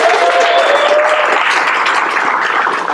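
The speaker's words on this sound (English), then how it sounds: "All right, let's hear it for Killian." Audience applause at a lockpicking event, a steady dense wash of clapping from a crowd that holds for three seconds with a faint cheer near the start.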